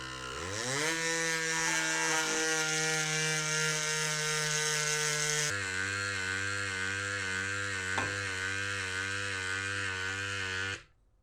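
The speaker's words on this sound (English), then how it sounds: "this time we're going to pump it up to 80 seconds" A battery-powered portable air pump inflating a tyre, a loud steady mechanical buzz-whine that runs for about ten seconds with a brief pitch shift midway, then cuts off abruptly.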